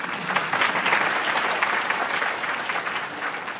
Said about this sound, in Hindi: तो बजाओ ताली